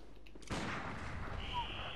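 A single sharp burst of gunfire in Bloodborne cracks out, followed by a lingering noisy rumble and a faint high whine; heard alone, moderately quiet.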